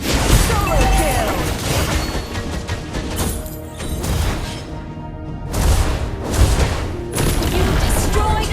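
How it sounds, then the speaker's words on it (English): A turret is destroyed in the Mobile Legends mobile game, heard as loud, dense explosive crashes and booms within continuous battle effects, with game voice announcements over them. "You destroyed a turret."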